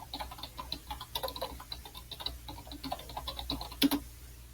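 Typing on a computer keyboard to enter a web address: a quick, steady run of soft close key clicks over a faint background hum, with one slightly louder tap near the end.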